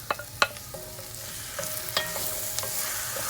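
Squash, garlic and candied ginger stirred in a pot, with a few sharp spoon scrapes and taps against the side over a soft sizzle, close by and moderately quiet.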